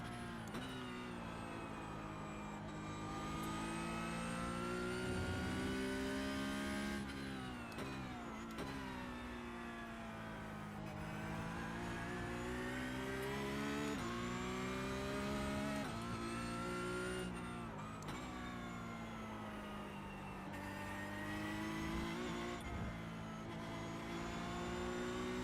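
A Porsche Cup race car in iRacing at Hockenheim screams through its gears with a loud, continuous engine note, pitch climbing and dropping sharply on upshifts and braking, with no talk over it.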